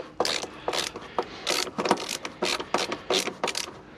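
Ratcheting clicks from removing a long wood screw from an interior access panel in a TD5 Land Rover Defender, heard as about nine short bursts in a steady rhythm, close and moderately loud.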